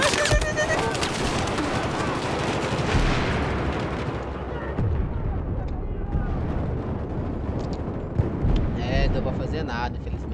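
Dense, continuous machine gun fire in a video game, rapid overlapping bursts and blasts filling the mix loudly throughout, with a voice talking over the shooting.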